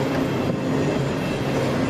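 Riding aboard a moving freight train, a loud continuous rumble of rolling cars with clattering wheels and faint metallic squeal, steady and close throughout, with no talk.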